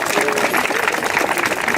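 An audience at an MLK Day university event claps in dense, steady applause that fills the room for a brief moment, loud and close.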